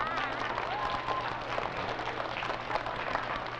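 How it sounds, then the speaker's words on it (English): Steady applause from a crowd, continuous dense clapping with some voices mixed in, filling the whole stretch at moderate loudness. "Let's give one more round of applause for Mr. Russell."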